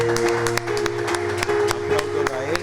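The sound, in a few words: congregation applauding in church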